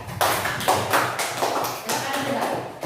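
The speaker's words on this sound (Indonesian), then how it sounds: "jadi sudah tepuk tangan untuk kelompok 3" Classroom applause for a student group, with pupils clapping in uneven bursts close by, mixed with chatter and voices throughout.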